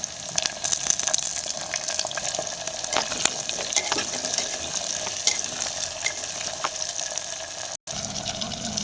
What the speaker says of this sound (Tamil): அடுத்து வத்தல், அடுத்து கருவேப்பிலை, அடுத்து சின்ன வெங்காயம் போட்டு கொஞ்சம் நல்லா வதக்கிக்கணும்.